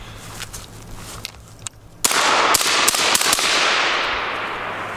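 Gunshots from a VKTR VK-1 piston AR-15 rifle with an 11.5-inch barrel, a few faint cracks followed by a loud burst of several rapid sharp reports ringing out in the open air.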